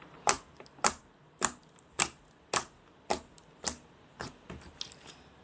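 Ninja slime being worked with a stick makes sharp, distinct clicking snaps, about a dozen at a steady, unhurried pace, close and alone with no talk.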